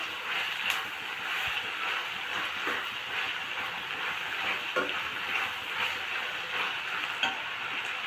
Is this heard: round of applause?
no